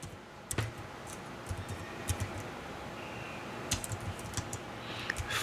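Quiet, irregular keystroke clicks from typing on a computer keyboard, scattered in short bursts with pauses, close and soft, with no voices.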